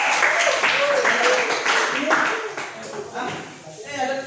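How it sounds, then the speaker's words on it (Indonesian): Classroom audience clapping during a teaching practice session, a short burst of hands under and alongside speech, fading as a voice takes over near the end. "ini tepuk tangan buat kedua"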